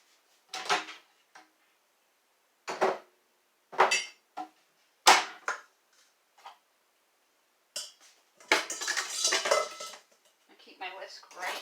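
Small breakfast-sandwich plates and dishes being put away in a kitchen, several separate ceramic clinks and clatters with pauses between them, then a longer rattling burst near the end.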